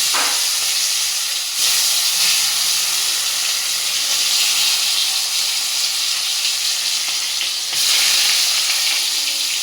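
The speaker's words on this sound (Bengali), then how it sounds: "এখন আমি মাছগুলো ভাজবো তেল দিয়ে দিয়েছি কড়াইয়ে এখন আমি মাছগুলো ভেজে নেব ভালো করে" Salted fish pieces frying in hot oil in a wok, giving a loud, continuous sizzle and hiss that swells slightly at a couple of points and stays steady throughout.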